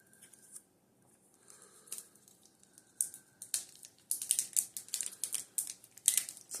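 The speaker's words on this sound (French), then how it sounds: "Je vais ouvrir la barre massive de chocolat." A massive chocolate bar's wrapper is torn open up close, with faint crinkles at first building into a flurry of sharp, crisp tearing and rustling bursts.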